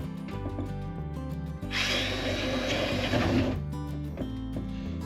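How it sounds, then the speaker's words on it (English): A power drill bores a hole up through the underside of a cabinet inside an RV, a loud whirring grind of about two seconds standing out between quieter tonal background sounds. "I'm just going to drill a hole"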